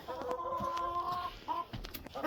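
A broody Brahma hen gives a drawn-out, nasal clucking call, close by, followed by a shorter second cluck against soft farmyard background noise.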